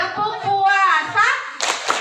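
Children at an elementary school Ramadan program chant together and then break into a few quick hand claps in a rhythmic clapping routine, voices and claps close and lively.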